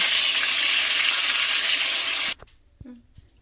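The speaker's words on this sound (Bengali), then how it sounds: "বেগুনগুলোকে দিয়ে খুব ভালোভাবে ভেজে নেব" Brinjal slices fry in mustard oil in a kadai with a loud, dense, close sizzle that cuts off abruptly, followed by a few faint clinks and knocks.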